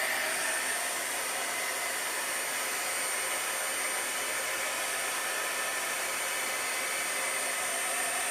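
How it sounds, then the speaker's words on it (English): A heat gun blowing continuously, a steady loud airy whoosh with a faint high whine, unchanging throughout and with no voices. "So this is my heat gun."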